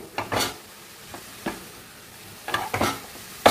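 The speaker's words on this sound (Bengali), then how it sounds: "এরকম নাড়াচাড়া করতে করতে গাজরটা সিদ্ধ হয়ে যাবে।" Carrots are stirred in a pan with a large spoon while cooking for a carrot kalakand, giving several short scraping, sizzling strokes in an uneven rhythm, close and alone.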